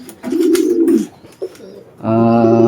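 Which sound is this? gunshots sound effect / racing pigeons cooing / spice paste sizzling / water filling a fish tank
racing pigeons cooing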